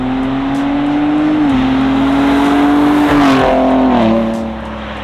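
A loud, deep Ford Raptor truck engine with a performance exhaust rumbles close by, its exhaust note climbing and stepping through revs before dropping off near the end.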